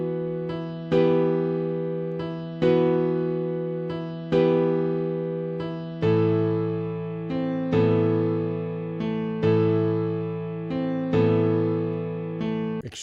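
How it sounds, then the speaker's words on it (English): A simple repeating piano-style note pattern played on the FL Keys plugin for a beat, clear chords struck in a steady rhythm with each hit decaying, alone without drums or talk. "I started with FL keys and I just started putting in some notes"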